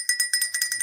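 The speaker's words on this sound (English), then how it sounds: "I'm just going to ring my little bell." A small hand bell is rung rapidly about eight times in under a second, bright metallic tings close and clear with no talk.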